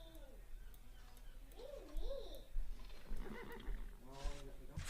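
Horses whinny in a Civilization 5 strategy game, two wavering neighs followed by more squealing calls and faint clip-clop, with a low game hum underneath.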